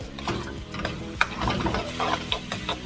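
Chili, onions, garlic and ginger stir-fry for Mongolian beef, a steady close sizzle broken by the scrape and clatter of stirring in the pan.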